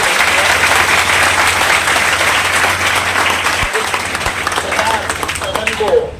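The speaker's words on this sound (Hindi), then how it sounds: "एक बार जोरदार तालियों से स्वागत हो।" Loud, sustained applause from a gathered audience welcoming a poet at a poetry and memorial event, continuous dense clapping with a low hum underneath, thinning slightly toward the end.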